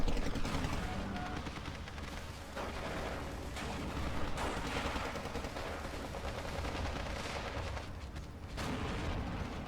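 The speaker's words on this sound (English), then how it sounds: "rifles engaging with some Panzergrenades, and you can just see how much more powerful the rifles are in this engagement" In the Steel Division 2 war game, rifle infantry fight Panzergrenadiers in a dense, continuous barrage of rifle and machine-gun fire with heavy thuds and rumbling blasts, loud and unbroken throughout.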